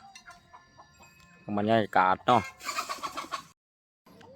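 Chickens cluck and call in a short burst near a rural rice field at evening, a few loud squawking notes followed by a rapid cackle, with someone speaking softly before and after.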